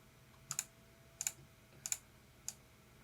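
Four sharp clicks of a computer keyboard key, some doubled, at an even pace, close and quiet against a faint background hum.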